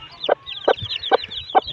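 A hen in a farm setting with newly hatched chicks clucks four times in a steady rhythm, short close calls over a faint low background rumble.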